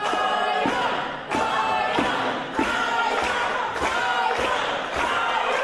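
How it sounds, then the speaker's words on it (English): Wrestling crowd at a Reality of Wrestling match cheering and yelling, with repeated loud thuds of bodies hitting the ring roughly every second and a half, a constant roar underneath. "Now we see the crowd here. You can hear them."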